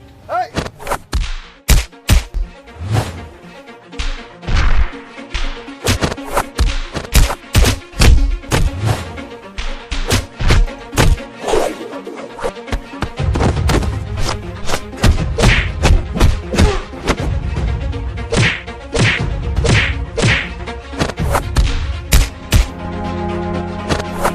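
Blows and punches in a Hindi film fight scene: a dense, irregular barrage of sharp, loud thuds and impacts, some in quick clusters and some spaced apart, running throughout.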